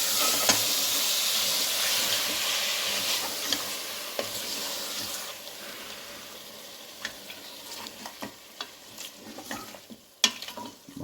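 Browned onion being stirred into mutton keema in a pan, a soft continuous frying sizzle with scraping stirs, busier at first and thinning to sparse clicks and taps near the end, no talking.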